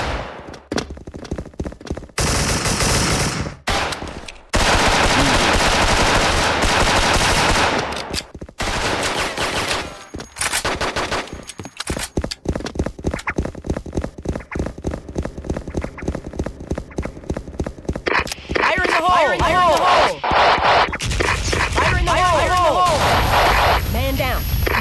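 Dense, loud automatic gunfire from the online shooter game Soldier Front, rapid rattling bursts and fusillades nearly nonstop with brief gaps, mixed with game voice callouts.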